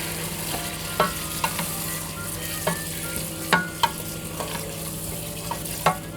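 A hot pot on an electric stove sizzles and crackles steadily as water is poured in, punctuated by sharp clinks and scrapes of a utensil stirring at irregular intervals.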